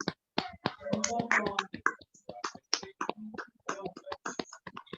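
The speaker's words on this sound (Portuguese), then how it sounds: "uma salva de palmas para todo esse encontro que os nossos ancestrais possibilitaram" Scattered claps and finger snaps from participants over open microphones at an online BatucAsé gathering, irregular taps popping up close-mic'd amid ongoing talk.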